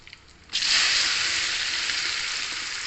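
Mango pieces hit hot oil with asafoetida for a Telangana jaggery mango pickle, a loud sizzle bursting in after a brief quiet moment and hissing steadily on.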